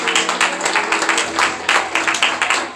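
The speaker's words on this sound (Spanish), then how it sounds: "¿Cuántos pueden darle un aplauso al Señor, hermanos?" A church congregation applauds at a Spanish-language Pentecostal service, dense steady clapping filling the space with a low murmur of voices underneath throughout.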